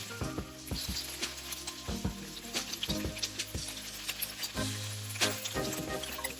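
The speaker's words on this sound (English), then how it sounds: "cook the beef in 2 to 3 batches if required. Do not overcrowd the pan, as you'll end up stewing instead of searing your beef" Beef ribs searing in oil in a hot wok, a steady close sizzle broken by regular clanks and scrapes of a utensil against the pan.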